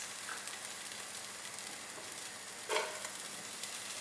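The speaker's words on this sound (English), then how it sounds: "At this time, we'll add in the green chilies." Green chilies frying in a pan with golden-browned onions and ginger garlic give a steady, close hiss of sizzling oil, with one brief louder crackle near the end and no voices.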